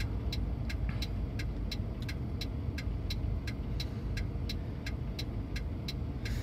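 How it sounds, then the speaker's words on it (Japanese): Steady stream of cars on the Route 125 Gyoda bypass in Saitama, a continuous road roar with faint regular ticking on top, no one speaking. "ご覧の通り125国道125号線行田バイパス、車たくさん流れております。"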